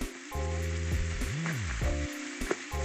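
Ground beef sizzling in a pan for sloppy joe pasta, a steady broadband crackle running throughout under a strong tonal hum that bends in pitch, with no one talking.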